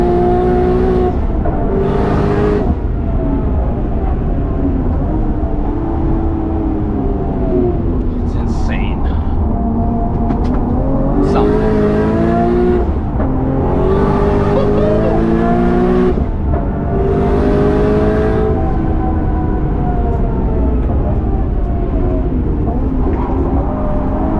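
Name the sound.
Nissan Skyline R34 GT-R RB26 engine revving on Nürburgring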